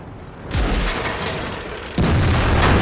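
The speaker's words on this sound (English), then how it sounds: "One more shot from artillery." Artillery firing in the World of Tanks video game, two heavy booms about a second and a half apart, each a sudden loud blast followed by a sustained rumbling tail, with no talk over them.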